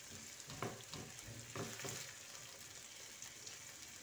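Finely chopped onion softening and browning in a pan, giving a steady close sizzle with a few soft stirring scrapes early on, then a constant hiss with no talking.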